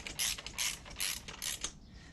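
A hand ratchet clicks in four quick, quiet bursts while running in stock exhaust bolts on a 2008 Harley-Davidson Sportster 883C, with short pauses between strokes.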